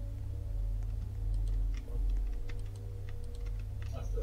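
Scattered clicks of computer keyboard keys during Roblox play, irregular and light, sitting over a constant low electronic hum.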